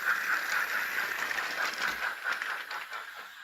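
Small Hornby Playtrains model steam goods train with jammed wheels, running steadily on its track and derailing, a continuous whirring hiss with faint clicking throughout, close and moderately quiet.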